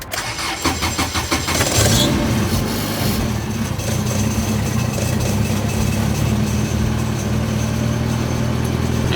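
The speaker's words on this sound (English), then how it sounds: "I disconnected it, and now it just idles much better" A turbocharged Honda B18C engine in a 1996 EK hatchback idles loudly and steadily nearby, with a brief rise in revs at the start before settling into an even rumble.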